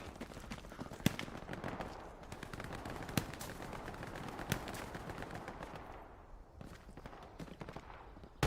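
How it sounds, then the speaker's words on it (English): Gunfire in the WW2 shooter Hell Let Loose: scattered sharp rifle and machine-gun shots over a dense battlefield din, several loud nearby cracks standing out against more distant firing. "They shooting at you, Scoot?"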